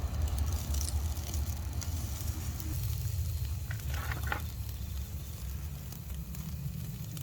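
A steady, low sizzle of Korean hanwoo beef cooking over a charcoal grill, soft crackling hiss throughout with a few brief sharper pops, no voices.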